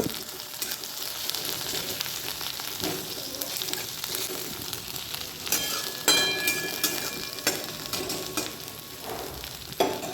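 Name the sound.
onion frying in a pan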